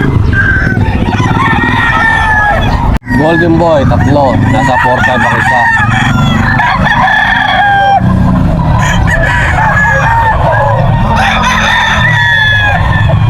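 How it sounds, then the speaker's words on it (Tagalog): Roosters crow repeatedly nearby amid clucking fowl at a chicken market, while someone talks loudly in Filipino over the birds throughout. "Update natin yung mga manok niya."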